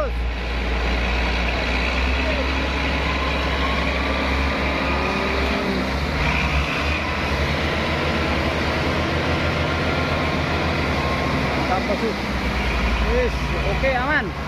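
A loaded Hino truck stuck in a mud hole runs its diesel engine at high revs in a continuous heavy drone while people shout and talk nearby.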